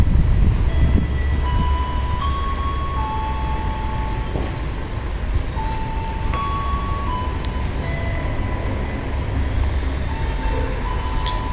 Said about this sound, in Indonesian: kereta api Sri Tanjung sebentar lagi akan melintas langsung